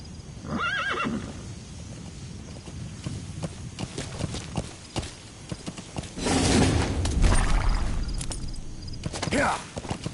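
A horse neighs near the start and again later, with hoofbeats clip-clopping across the stretch amid game ambience, set in a video game wilderness on the way to an enemy outpost.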